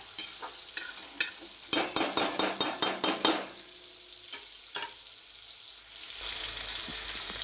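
Tomatoes sautéing in a pan for fish curry, with a row of about ten quick, evenly spaced spatula strokes scraping and clattering over a soft sizzle, then a few scattered stirs and a rising hiss.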